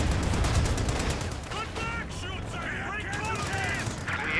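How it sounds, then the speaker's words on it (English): Bombing run in the Company of Heroes 2 strategy game: a rumbling barrage of explosions and fire at first, then whistling, chirping falling tones over continued rumble. "bombing run has begun"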